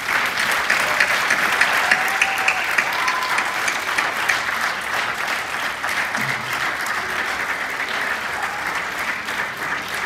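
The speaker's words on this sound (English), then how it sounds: "I would like it if we could give a round of applause to Mrs. Maureen Sarah" Sustained applause from an audience at a high school senior awards ceremony, a dense steady wash of clapping that holds at even loudness for the full length, with faint voices mixed underneath.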